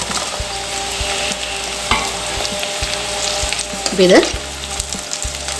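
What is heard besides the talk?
drumsticks and green chilies stir-fried with onions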